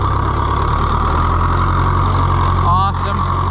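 An Oliver 1365 tractor engine runs steadily in third gear with a deep, constant drone and a brief rising whine near the end.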